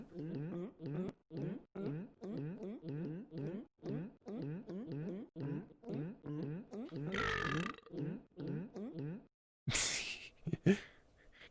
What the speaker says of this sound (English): Can you burp and gulp at the same time?